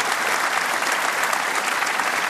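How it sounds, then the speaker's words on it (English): Audience clapping for two political broadcasters after an hour-long unscripted discussion, a dense, even burst of applause that carries on without a break. "a round of applause for John Faine and Barrie Cassidy"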